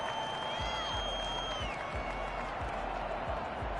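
A home stadium crowd in a football video game, a steady roar with rhythmic low thumping and a sustained whistling tone that bends downward.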